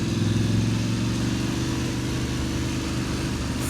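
A motorcycle engine runs steadily and close by while riding along a tiny lane, with a continuous low, even drone throughout.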